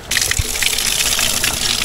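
Cold mountain spring water gushes steadily in a forest setting in Romania, a dense, close rushing stream that runs without a break and without any talking.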